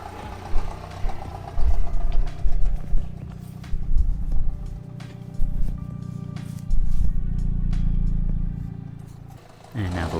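An Audi A3 engine idles steadily after a valve cleaning, a low mid-range hum running under intermittent talk, with brief clanks and shuffling around it.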